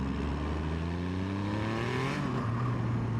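A supercharged 340 bhp Triumph Rocket 3 motorcycle accelerating hard, its engine note climbing steadily in pitch through the gears with a loud, continuous, close-up roar and a brief shift near the end.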